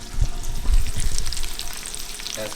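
Chicken chilli with extra butter heats in a saucepan, giving a close, steady sizzle and bubbling with a few stirring scrapes over a couple of seconds, with no talking.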